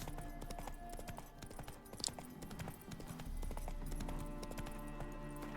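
Horse hooves clip-clopping at a steady gait in The Witcher 3, a continuous rhythmic clatter layered over game music and ambient sound, with a brief sharp accent midway.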